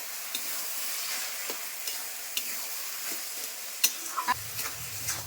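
Bottle gourd with shrimp fries in oil in a wok, a soft continuous sizzle with a few light stirring clicks and scrapes, heard close and alone.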